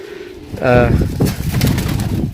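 A pigeon gives a close, throaty coo over a low background, with a voice speaking nearby.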